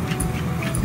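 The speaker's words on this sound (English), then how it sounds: "This is the way we walk our dog." A dog whimpers on a winter walk, giving a few short, high yips and whines over steady low rumble and outdoor noise.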